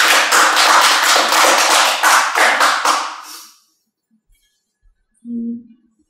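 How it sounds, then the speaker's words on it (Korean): An audience claps to welcome a lecturer at a talk, dense applause for about three and a half seconds before it stops abruptly, followed by near silence and a brief low voice sound. "큰 박수로 맞이해 보도록 하겠습니다"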